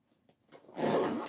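A zipper on a handmade sewn item is pulled once, a soft ticking start that swells into a single quick, close rasp lasting under a second in an otherwise quiet room.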